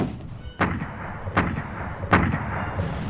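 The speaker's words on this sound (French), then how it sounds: "Ils vont être la cible d'un bombardement précis de l'artillerie de Bradley." Artillery bombardment during the Battle of the Bulge in the Ardennes: three sharp, heavy booms land about three-quarters of a second apart over a low, continuous rumble.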